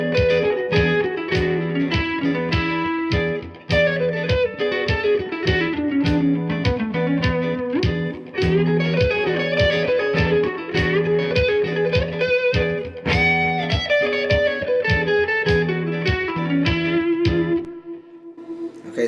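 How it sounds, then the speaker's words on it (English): Electric guitar improvising in E Mixolydian over an E dominant 7 chord, with effects and reverb on the tone. It plays a loud, continuous run of picked single-note lines over the sustained chord for about eighteen seconds. "just improvising using the E Mixolydian mode over top of this E dominant 7"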